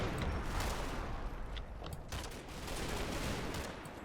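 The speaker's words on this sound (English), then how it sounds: "some of the least accurate machine gun fire in history" Sustained machine gun fire from the Normandy hedgerow fighting of Combat Mission: Battle for Normandy, a dense, continuous rattle of overlapping bursts with sharper individual reports cutting through and no talk.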